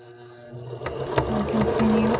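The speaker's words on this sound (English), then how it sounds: "I'm gonna back stitch a little." A sewing machine backstitches a fabric sleep mask, starting with a few clicks and then running into a fast, steady mechanical whir up close, alone without talk.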